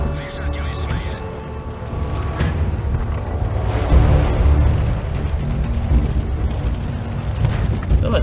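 Tank cannon shots in a World War II tank battle video game, heavy booming blasts that come again and again over a dense, continuous rumble of engines and battle noise, with someone talking throughout.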